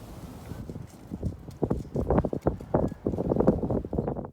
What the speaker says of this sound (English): You can hear the javelina walking on the gravel at night